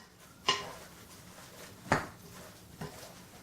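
A utensil knocks against a bowl while eggs are mixed into a turkey and spinach meatball mixture, giving three separate, fairly soft clinks spaced apart over quiet background.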